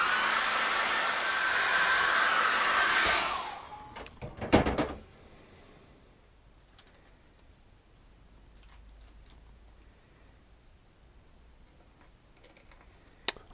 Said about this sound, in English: I'm just going to get the hairdryer on that